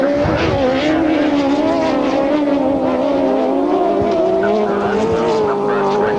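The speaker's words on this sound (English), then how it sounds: "And the screaming horde of sidecars" Grasstrack racing sidecar outfits roar off the start line together, a loud screaming pack of engines rising in pitch, with a commentator talking over the din.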